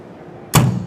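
Sandcarving machine door shut with a single sharp slam after a quiet lead-in, followed by a brief resonant ring from the cabinet; no voices.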